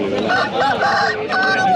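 A native country rooster crows loudly and close at a busy rural poultry market in Hoskote, its drawn-out call wavering in pitch, with faint market voices underneath.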